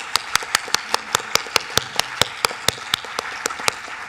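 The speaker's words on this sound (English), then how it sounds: "Let's give one more big round of applause for all our winners." Steady rhythmic clapping at a design awards event, sharp evenly spaced claps at a regular pace over a low crowd murmur, fairly close and consistent throughout.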